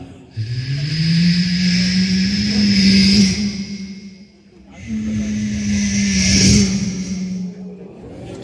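Voice imitation of a car at an outdoor reunion sports-day performance: two long, breathy, hissing engine tones that rise and hold, each sounding like a car passing by, loud and close.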